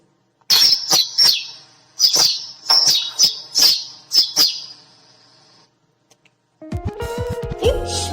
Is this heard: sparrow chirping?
yes